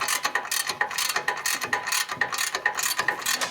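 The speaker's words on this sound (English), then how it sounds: "This is not exactly a fine thread ratchet" Ratchet clicking steadily as it tightens a bolt on the cam tensioner of a 2004 Harley-Davidson FLHT touring bike with an 88 Twin Cam engine, a rapid series of close, crisp pawl clicks in an even back-and-forth rhythm.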